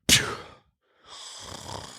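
A voice mimics a sharp sneeze, one loud burst, then a brief pause before a softer breathy hiss.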